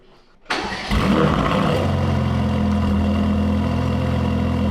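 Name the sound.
Mercedes-AMG GT Black Series engine cold start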